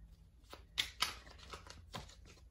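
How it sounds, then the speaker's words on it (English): A deck of tarot cards is shuffled by hand, a few soft riffles and sharp flicks sounding close and quiet over a still room. "I'm just shuffling here."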